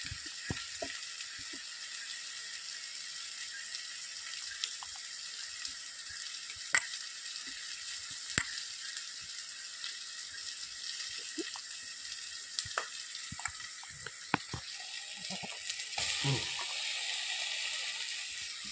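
Mild chillies fry in a pan with a soft, steady sizzle, broken by occasional sharp pops and crackles, faint and close with no voices.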